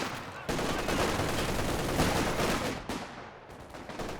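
Sustained machine gun fire and battle noise in Company of Heroes 2, a dense loud rattling burst that cuts off near the end, then resumes briefly.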